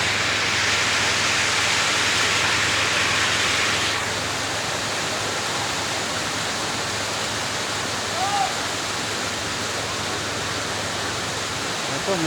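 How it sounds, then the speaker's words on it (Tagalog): Heavy rain pours down in a constant, loud broadband roar, unbroken throughout with a slight softening after the first few seconds. "Lakas ng ulan."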